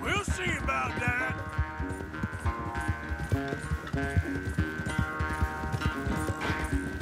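A horse gallops in the video game Red Dead Redemption 2, rapid rhythmic hoofbeats under loud orchestral game music.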